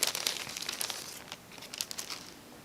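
Soft crinkling and rustling of a clear plastic bag holding embroidery thread and a large-eyed needle, handled close by in a quiet room with brief crisp crackles, no talking.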